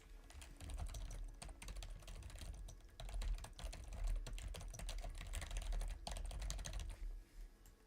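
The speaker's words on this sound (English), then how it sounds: "Let me do a little bit of typing." Fast, close typing on a computer keyboard, dense irregular key clicks and thumps recorded through a Fifine microphone without noise reduction, with a faint background hiss underneath.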